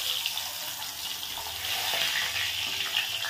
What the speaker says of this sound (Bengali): মাছগুলো একটু বড় বড়, তো ওই একটা দুটো করে ভেজে নিচ্ছি।